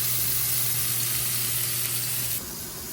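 Steak searing in a hot pot, a loud, steady broadband sizzle with a faint constant hum beneath, easing slightly near the end.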